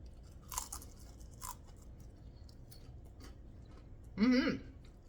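Crisp fried oyster mushrooms crunch in a few short close bites, with quiet pauses between them and one louder crunch near the end.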